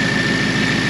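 Supercharged 2021 Ford Mustang Mach 1 with a smaller blower pulley and E85 fuel, idling with the hood open, recorded close: a steady low rumble with a constant supercharger whine and no talking.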